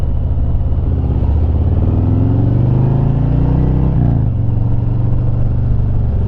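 A Harley-Davidson motorcycle with an M8 engine rumbles close up while being ridden around Columbia, South Carolina, a loud, deep, continuous drone whose pitch climbs and eases as the throttle shifts, with one quick drop partway through.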